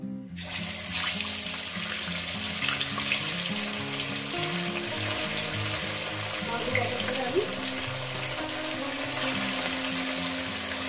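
Rohu fish pieces frying in hot oil in a pan, with a steady, loud sizzle and hiss that runs the whole time, and a low background music bed underneath.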